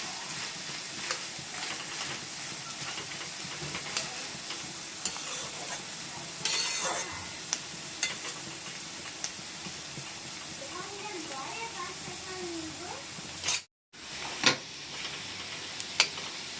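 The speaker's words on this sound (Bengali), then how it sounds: "পেঁয়াজ আর আলুটাকে বাদামি কালারের হবে এমনভাবে ভাজবো, হালকা হালকা বাদামি কালারের হবে" Onions and potatoes fry in a pan for chire polao until lightly browned, giving a steady close sizzle broken by sharp clinks and scrapes of a metal spatula being stirred, with one brief cut near the end.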